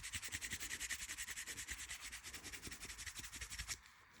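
Canvas rubs hard along a leather edge to burnish it, giving quick rhythmic scratchy strokes in a close, steady series that stops abruptly near the end.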